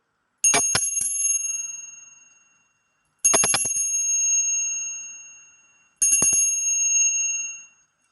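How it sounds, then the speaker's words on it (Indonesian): A bright bell rings three times in evenly spaced bursts, each strike ringing out and fading before the next, loud and close with no voices. "saya akan meramalkan dengan ditandai lonceng berbunyi"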